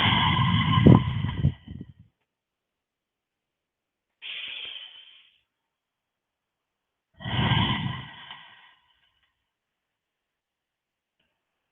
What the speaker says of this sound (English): I'm going to take 3 deep breaths here, and then we're going to come back up.